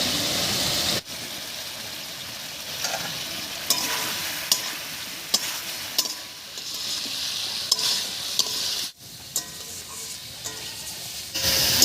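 Spice paste with water and tomato fries and sizzles in a pan as it is stirred for a snakehead fish curry, a steady hiss with intermittent scraping and knocking of a spatula, without any voices.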